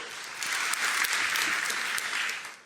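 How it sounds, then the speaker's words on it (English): Applause from a school audience at a renewable energy challenge event, a loud sustained burst of many hands clapping that swells quickly and fades near the end. "One more time, a round of applause for Julius."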